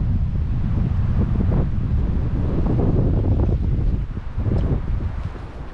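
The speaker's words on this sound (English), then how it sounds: "Oh, listen to that wind." Strong wind buffets the microphone on an exposed rocky hilltop, a loud continuous roar with gusting surges that eases slightly toward the end, with no talking.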